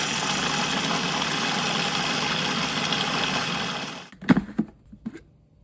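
Blender whirring through tofu chocolate pie filling, a steady loud motor buzz for about four seconds that cuts off, followed by a few clattering knocks.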